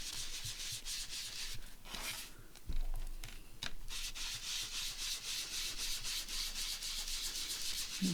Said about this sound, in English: we're just going to ink around it, same as we did before